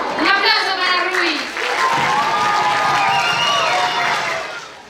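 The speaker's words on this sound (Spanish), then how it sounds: "Un aplauso para Rui" Loud applause and cheering from a school talent show audience, with children shouting and whooping over continuous clapping that briefly dips, then swells and holds before fading.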